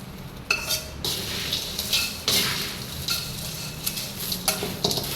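Spiced puffed rice being tossed and mixed in a pan, repeated rustling scrapes and metallic clinks of the spoon against the pan in an uneven rhythm, close by with no voices.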